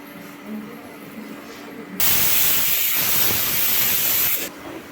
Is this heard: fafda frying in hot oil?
yes